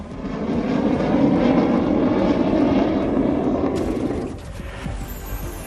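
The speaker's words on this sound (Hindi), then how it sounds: "लड़ाकू विमानों की रिहर्सल का लिया जायजा।" Fighter jets rehearse over a runway built on the Purvanchal Expressway near Sultanpur, giving a loud, steady, broad jet roar. The roar holds for several seconds, then fades slightly as the aircraft pass. No voices are heard.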